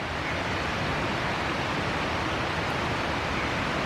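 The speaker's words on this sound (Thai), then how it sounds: "ลมแรงมาก แรงจนโอ้โห แทบจะพับเต็นท์ไปเลยนะครับ" Strong wind roars across a tent campsite at Lan Sang National Park in Tak, a continuous loud rushing hiss with no pauses and no voices.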